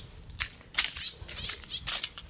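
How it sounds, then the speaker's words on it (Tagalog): Many birds fly overhead, their wings producing several brief fluttering bursts at uneven intervals, faint against a quiet outdoor background. "Ano, grabe mga ibon dito guys."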